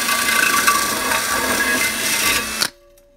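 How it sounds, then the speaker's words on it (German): A drill bores through a wooden wall with a loud, continuous grinding rasp while a ring of holes is cut. The drilling runs steadily, then stops abruptly, leaving near-silence with a faint fading tone. "Und jetzt werden wir eins nach dem anderen hier rundherum die Löcher machen."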